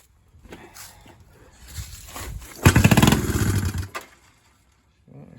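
A 1973 Honda CB350 motorcycle engine, struggling with a fuel issue, sputters and then catches, running loudly at close range for about a second before cutting out, with quieter rumbling just before.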